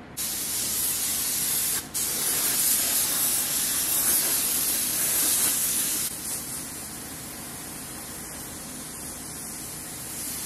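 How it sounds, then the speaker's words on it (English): An air-driven spray gun fed from an airline hose blasting an oil and diesel mix onto farm machinery, a loud, steady hiss with a brief break, then tapering to a softer spray; no talking. "stick the hose in the bottom of it, like so, and we got a spray gun."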